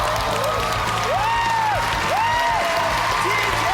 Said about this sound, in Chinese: 接下来掌声有请金星女士